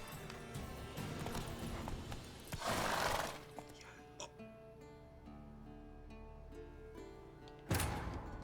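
Hooves of Roach, a horse in The Witcher 3, clop along amid game ambience, with a couple of louder bursts of impact and rustle breaking through a quieter stretch.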